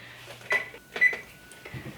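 An oven's control panel gives two short, clear electronic beeps about half a second apart as it is set, in a quiet kitchen with faint background noise.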